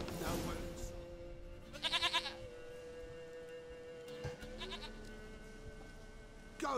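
Princess the goat in The Witcher 3 lets out a clear, quavering bleat, followed by a second fainter bleat a couple of seconds later and a brief third at the end, over a quiet game ambience with a low steady hum.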